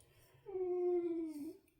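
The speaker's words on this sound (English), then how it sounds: "If you can hear that, that's a dog." A dog lets out a single drawn-out whimper, a high plaintive whine lasting about a second, fairly close and otherwise quiet.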